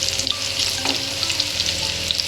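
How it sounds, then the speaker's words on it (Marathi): Spice masala roasting in a pan for a cabbage dish crackles and sizzles steadily and fairly close, with faint stirring under the hiss and no speech. "आपला मसाला पण बरोबर भाजून घेतलेला आहे"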